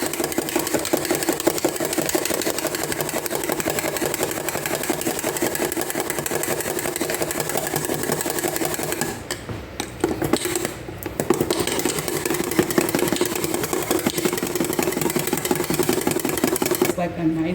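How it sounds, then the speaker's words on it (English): An electric mixer whisks cream toward soft peaks with a continuous buzzing, whirring drone that holds steady throughout, briefly dipping midway, while a person talks over it. "we're just going to keep whisking it until"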